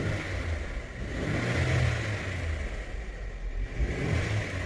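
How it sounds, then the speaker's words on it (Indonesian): Mercedes-Benz C 300 AMG Final Edition W205 engine in sport plus mode, a low muffled rumble that swells in a couple of moderate revs, fairly faint and heard from a distance without talk. "digeber bunyinya kayak gini."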